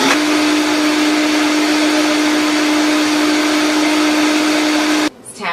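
A blender on a low setting whirs through a vegan protein smoothie with a steady, loud hum, then switches off abruptly near the end.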